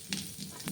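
Panch phoron spices with whole garam masala sizzle in hot oil in a kadai for a Bengali paneer dish. The crackle is a brief, close, steady hiss with a couple of sharper pops.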